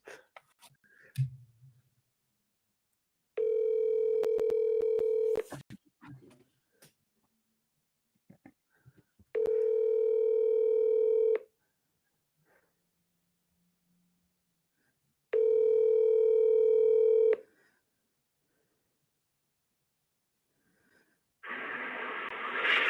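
An outgoing cell phone call rings back with three long steady tones spaced by silent gaps of a few seconds, fairly clean and moderately loud, with faint rustling and a burst of noise at the end.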